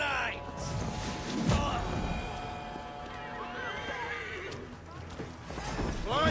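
Horse neighing in the video game Assassin's Creed Valhalla, a whinny with hooves clopping over busy game sounds and music, while someone talks.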